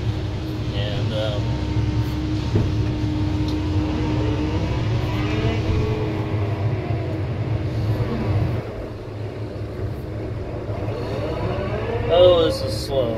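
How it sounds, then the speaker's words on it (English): An excavator grading dirt at a house demolition site, its engine droning low and steady under someone talking throughout, with the hydraulic whine shifting in pitch as it works. "I'm trying to do grading with an excavator."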